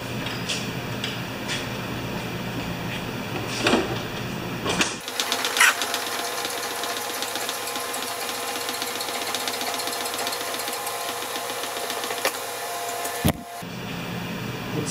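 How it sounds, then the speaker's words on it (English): A furnace runs in a workshop with a steady mechanical hum and whir, broken by an abrupt shift around five seconds and a brief dip near the end, continuous and close with no talk. "I know the furnace is going."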